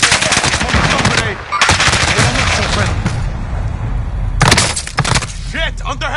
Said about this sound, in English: under heavy fire here